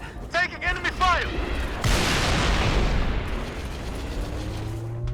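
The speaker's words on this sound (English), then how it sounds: "Taking enemy fire!" Enemy Wraith fire in Halo: Reach, a heavy boom with a long rumbling blast tail after some mechanical sci-fi whirs, loud and close, with game voices around it.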